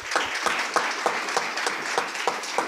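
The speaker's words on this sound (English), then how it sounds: "So a last round of applause for Włodek." Audience applause following a conference keynote on human enhancement and brain-computer interfaces, a steady dense clapping wash with a few louder individual claps standing out near the front, no voices over it.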